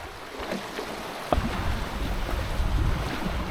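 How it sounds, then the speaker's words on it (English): Steady rushing wind and water noise aboard a Hobie Cat 16 catamaran sailing between Italy and Croatia, rising as a gust arrives with a sharp knock partway through, no voices. "Yeah, we have a good gust."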